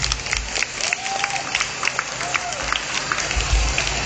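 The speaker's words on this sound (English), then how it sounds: "Let's give them a round of applause." An audience at a college pageant applauds and cheers for the candidates, with steady moderate clapping and crowd noise mixed with scattered voices and faint whistles.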